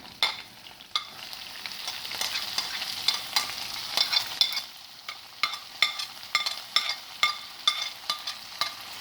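Curry leaves, green chillies and onions fry in a pan for idli upma, a soft close sizzle punctuated by a steady run of sharp spatula scrapes and taps against the metal.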